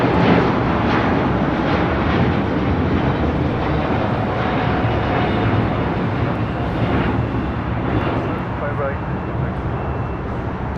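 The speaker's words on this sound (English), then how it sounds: "This is All Nippon Airways Flight 5 taking off to Tokyo Narita on a 787-9 Dreamliner." All Nippon Airways Boeing 787-9 Dreamliner taking off, a loud sustained engine roar with a persistent rumble, heard under ongoing talk.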